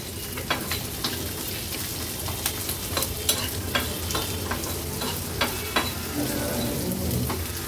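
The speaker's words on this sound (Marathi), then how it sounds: "आता आपण ह्या तेलामध्ये हे काजू, कांदा, आलं आणि लसूण आहे ना, थोडं एक 2 ते 3 मिनिटांसाठी परतून घेणार आहोत।" Cashews, onion, ginger and garlic sauté in hot oil for an Afghan egg masala, a busy close sizzle broken by frequent sharp stirring scrapes and taps of a spatula, with no one speaking.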